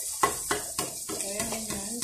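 Pork stir-fried in a pan, with rhythmic scraping stirs about every quarter second over a light sizzle, close and moderately loud.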